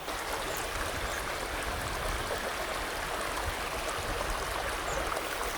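Continuous outdoor rain, a dense, steady wash of falling water close by with no pauses, heard alone.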